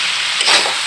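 A vegetable fry with radish, potato and scattered coriander leaves sizzling in a pan, a steady bright hiss with a slight swell midway as it is stirred, close and loud, with no voices.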